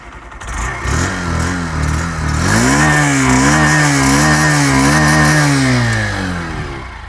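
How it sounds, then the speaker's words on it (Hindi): A Honda Shine 100 DX motorcycle engine cranks and catches, then runs loud and close with a steady, slightly wavering hum that rises in pitch as it revs before settling back down. "तो ये साइन 100 DX है और इसको एक बार"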